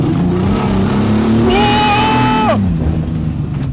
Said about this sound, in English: It accelerates like a go-kart.